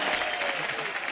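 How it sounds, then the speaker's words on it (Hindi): A television comedy show's studio audience breaks into steady, dense applause, loud and continuous throughout the short moment. "तालियां भाई।"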